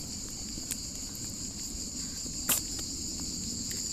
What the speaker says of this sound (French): Ah, là, il y a les cigales.